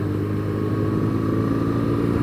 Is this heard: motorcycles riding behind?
yes